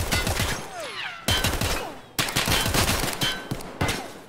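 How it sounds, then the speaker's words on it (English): Loud, close bursts of rifle fire in Escape From Tarkov: several rapid volleys, each cut off abruptly and separated by short gaps. "I'm going to shoot them. Shoot them!"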